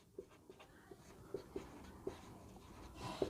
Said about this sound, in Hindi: जैसे एक वाक्य में लिखता हूं, राम है